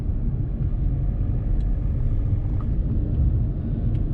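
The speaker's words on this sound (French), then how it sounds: "j'appuie à fond sur la pédale, regardez, elle avance, elle met du temps à accélérer" A car pulling away slowly from a stop in city traffic, a loud steady low engine and road rumble that holds without sharp change, heard from inside the vehicle.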